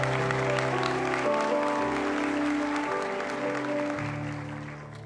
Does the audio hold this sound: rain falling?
no